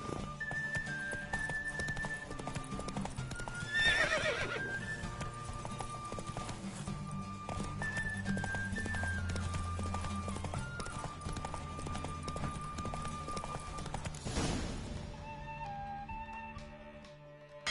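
A steady clip-clop of a galloping horse runs throughout under game music in The Witcher 3: Wild Hunt on PS5, with a brief whinny midway and a sharp burst near the end.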